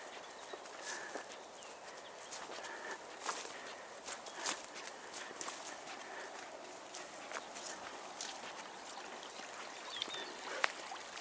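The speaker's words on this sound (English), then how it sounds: "Just listen to that running water folks." Running water of a stream trickles and burbles continuously at a steady, fairly quiet level during a dawn walk, with occasional faint clicks and knocks on top.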